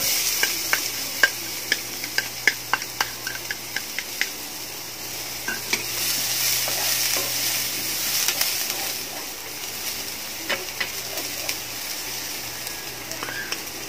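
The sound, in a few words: onion and garlic frying while being stirred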